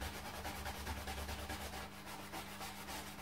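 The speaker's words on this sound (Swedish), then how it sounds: "Viktigt också att man borstar med fibrerna i längdriktningen, så man inte borstar på tvärs." A brush is rubbed along the grain of the wooden stock of a Swedish M1815/45 rifle during restoration, making faint, rhythmic scratchy strokes repeated close to the microphone.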